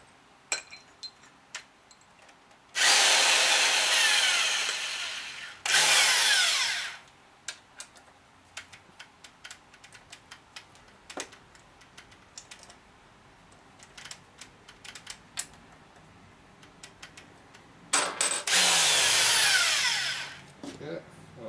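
Reamer cutting into a 1946 Harley-Davidson Knucklehead engine case, two loud bursts of high grinding whine early on and a third near the end, separated by quieter clinks and tool handling.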